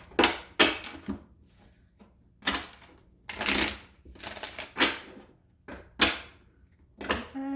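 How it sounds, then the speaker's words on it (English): Cards are riffled and shuffled repeatedly in quick bursts, each a crisp flutter followed by a short pause, close to the microphone. "Sometimes I always want to shuffle in there so the right cards come out."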